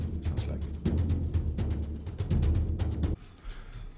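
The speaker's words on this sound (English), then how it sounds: "It's a rhythm track. It's just like a momentum. It's a frame drum played" A frame drum brushed in a steady, busy rhythm drives a layered orchestral rhythm track for Battlefield game music, dense and loud, then drops away abruptly near the end.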